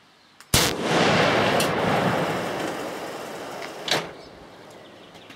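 A .338 rifle with no muzzle brake fitted fires one sharp, very loud shot whose booming blast rolls on for several seconds, then a second thump sounds near the end.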